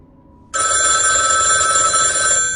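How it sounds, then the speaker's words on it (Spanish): An old telephone bell bursts into loud, continuous ringing after a short quiet lead-in, close and sustained to the end. "De pronto el teléfono antiguo a mi lado comenzó a sonar."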